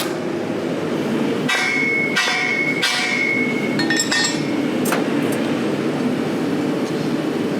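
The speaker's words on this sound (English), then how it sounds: "I'm going to take and drift that open to the same size as the other side." A blacksmith hammers a drift through the eye of a forged rounding hammer at a coal forge, giving several loud, ringing metallic strikes at irregular intervals that are close and bright, followed by lighter clinks and a steady background roar.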